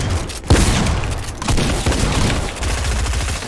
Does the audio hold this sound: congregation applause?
no